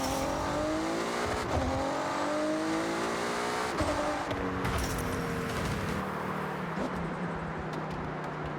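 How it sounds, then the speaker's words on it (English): A Nissan S-Cargo engine in Forza Horizon revs up repeatedly through rising gear shifts, with a whining, climbing drone that drops and climbs again, loud and close. "can we listen to this motor real quick?"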